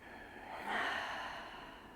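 A single slow, soft exhale from a yoga breathing exercise swells and fades over about a second, quiet and close, in an otherwise calm room.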